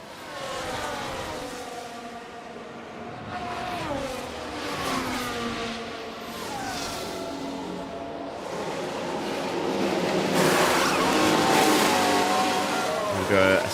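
Formula 1 car in F1 Manager 24 pulling into the pit lane at the Austria circuit, a steady engine drone that shifts pitch and rises slightly toward the end, with a commentator speaking over it.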